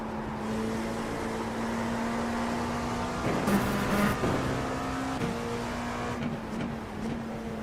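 A faster-class race car in a six-hour endurance event at Watkins Glen approaches, its steady engine drone building with a brief louder surge midway, heard from inside another car over continuous engine hum.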